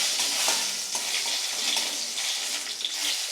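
Lentil bori and cumin seeds fry in hot oil in a wok, a close, steady sizzle with popping crackles and light stirring, no voices over it.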